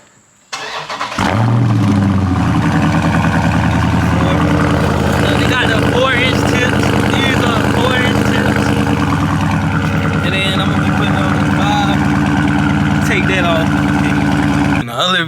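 A Dodge Charger Scat Pack on its stock exhaust fires up with a loud start and then settles into a deep, throbbing idle close by, with occasional blips of revving through the steady rumble.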